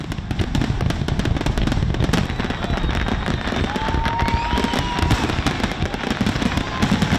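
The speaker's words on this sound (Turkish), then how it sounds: "New Yorklular kısıtlamaların kaldırılmasını havai fişeklerle kutladı." Dense crackling fireworks in New York with rapid pops and bangs, and a few whistling rockets rising through the steady barrage.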